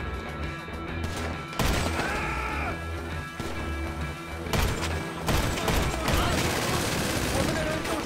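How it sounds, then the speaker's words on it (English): Gunshots in Grand Theft Auto 5 Online, fired at a container lock, come in bursts and single loud cracks over a low mechanical drone. A voice talks between volleys. "I guess what, we shoot the lock off?"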